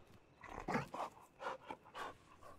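A wolf pup in RedM pants in quick breathy puffs, close and soft, with a brief rustle as it shakes itself wet.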